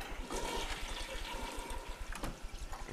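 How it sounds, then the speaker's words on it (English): Running water from a shower in The Sims 3 hisses and splashes steadily, a continuous close wash of spray with small fluctuations throughout. "Just having a shower."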